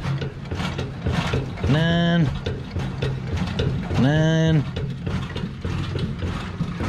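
A 1931 Ford Model A starter cranks a stuck engine that has sat for decades, giving two loud, strained whirring bursts about two seconds apart over a steady background hum.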